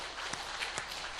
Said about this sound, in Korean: 감사의 박수를 드리겠습니다